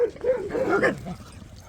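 A street dog whimpers and yips briefly, a short high-pitched vocal burst close by, with no people talking.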